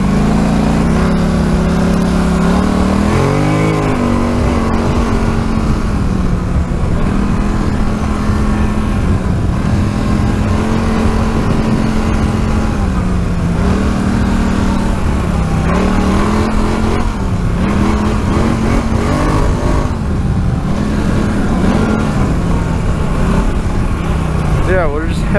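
A 2014 Polaris Scrambler 850 ATV engine drones steadily while riding, with pitch rising and falling as the rider revs through throttle changes. The sound is loud and continuous for the whole stretch, and a voice talks over it now and then.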